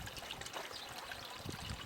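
Water trickles from a backyard permaculture food pond's small waterfall, fed by a solar-powered pump, a faint, steady light babble over a short moment.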